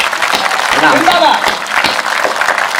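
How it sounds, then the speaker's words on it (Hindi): An audience at a Hindi poetry recital applauds in a dense, steady wash of clapping while a voice carries over it. "एक बार दोनों हाथ उठाकर तालियों के साथ एक बार"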